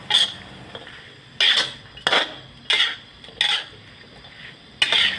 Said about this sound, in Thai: จากนั้นแล้วก็ใส่สตอลงไปเลยเลย ก็ผัดไปอีกสักพักหนึ่งครับ